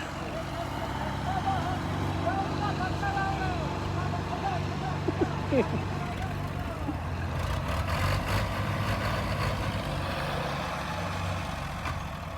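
A heavy tractor engine labors continuously with a deep rumbling drone as it strains to pull a stuck sugarcane trolley, while people talk and shout over it.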